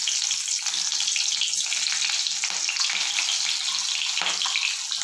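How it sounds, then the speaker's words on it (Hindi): Cumin seeds and two green chillies crackle and sizzle in hot oil in a pan, a steady, close hiss with small pops throughout. "ये हमने सबसे पहले जीरा डाल दिया है इसमें, तो जीरा चटक रहा है।"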